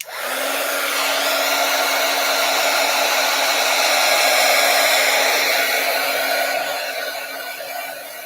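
A hair dryer blows continuously at close range, a loud, steady whooshing hum with a motor whine that holds for several seconds before easing slightly near the end; nobody speaks.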